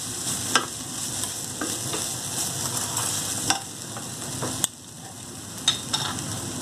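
Flour frying with ground nutmeg in a pan for lasagna, a steady soft sizzle broken by a few sharp scraping clicks of a utensil stirring, close by with no talk.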